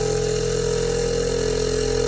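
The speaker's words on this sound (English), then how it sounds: "That's the sound of the compressors on, both of them." Two air ride suspension compressors running under the hood of a Honda Civic Si: a steady, loud mechanical drone with a constant buzzing hum and no breaks, close by.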